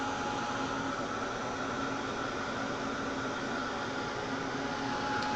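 A heat tool blows steadily, drying paint on a background surface. The hiss is an even, continuous airflow roar, close and constant throughout.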